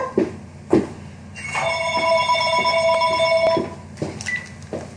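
A telephone rings with a sustained electronic tone lasting about two seconds, loud and close, among scattered room knocks and handling noises.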